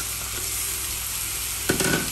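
Washed rice of two kinds and two kinds of dal being stirred in a hot pan over low heat, a steady soft sizzle with a brief louder scrape of the spoon near the end, no voices.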